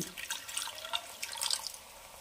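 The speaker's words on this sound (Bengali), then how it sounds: "আমি এর মধ্যে দিয়ে দেব জাস্ট হাফ কাপ একটু জল" About a quarter cup of water goes into a cauliflower curry cooking in a pan, a faint, brief splashing trickle with a soft hiss, close by and without talk.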